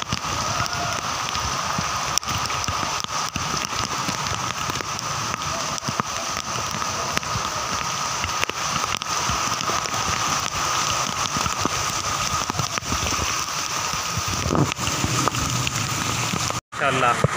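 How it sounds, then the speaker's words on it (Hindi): Heavy rain in Karachi after intense heat pours steadily and loudly, a dense continuous hiss with wind mixed in, unbroken for the whole stretch. "ज़बरदस्त बारिश हो रही है।"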